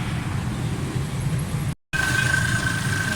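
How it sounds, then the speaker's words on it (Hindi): A Suzuki Mehran car engine runs steadily up close after carburetor service and tappet adjustment, giving a constant broadband drone with a brief dropout partway through. "स्टार्ट है गाड़ी"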